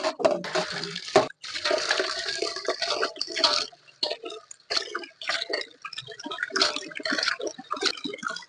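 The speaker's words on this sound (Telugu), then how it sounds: "ఇలా శుభ్రంగా మూడు నాలుగు సార్లు కడుక్కోవాలి" Ingredients washed by hand in water for a village-style Rayalaseema ragi sangati and country chicken curry, with repeated splashing, sloshing and dripping in bursts, close and fairly loud, with short pauses between rinses.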